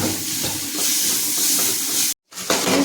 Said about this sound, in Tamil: அதே மாதிரி கொஞ்சம் கிண்டிக்கலாம்.